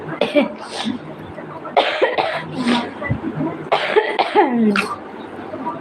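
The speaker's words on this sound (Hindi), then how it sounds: "बहुत खांसी आता है, दवा भी पी रहे हैं" A man coughs repeatedly in short harsh bursts, with voices speaking around and between the coughs.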